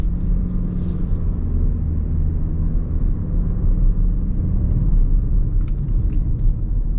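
A 2026 Lexus NX 350h F Sport hybrid cruising, heard from inside as a steady low road rumble and engine drone with faint tire hiss, continuous and even throughout.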